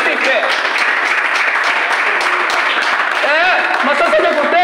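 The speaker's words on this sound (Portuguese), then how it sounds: "Aplauda Jesus, você que tem fé." A church congregation applauds steadily and fairly loudly throughout, a dense wash of clapping with voices and cheering rising over it toward the end.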